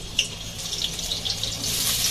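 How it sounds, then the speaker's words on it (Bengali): Cut potatoes being rinsed under a running kitchen tap, a steady close hiss of flowing water splashing into a sink, alone without talk. "আলুগুলো তো কেটে টুকরো করেই রাখলো পিসি, সেটাই আমি একটু ধুয়ে নিচ্ছি"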